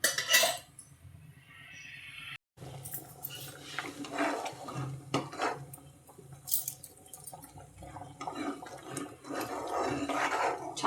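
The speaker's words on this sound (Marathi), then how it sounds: "छान उकळी आली मस्त." Curry of unripe green tomatoes and spinach bubbling in a pot in a home kitchen, with soft wet popping and dripping mixed with clinks of a spoon against metal. The sounds are fairly close and come in uneven bursts.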